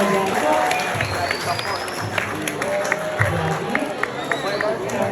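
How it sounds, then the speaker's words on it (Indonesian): Audience clapping at a school event, a broad patter of many hands from a crowd, heard with a murmur of chatter and some voices over it. "Keren tepuk tangannya ya."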